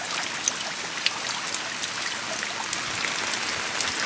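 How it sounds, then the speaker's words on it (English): Rainwater collected on a sunshade drips steadily into a garden pond below, a soft continuous patter of small close drops with a few slightly louder plinks standing out, no voices. "the sunshade that's over the pond is actually collecting some water and dripping it"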